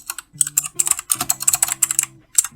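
Computer keyboard typed in quick irregular bursts of clicks, close and clear, with short pauses between runs and no talking.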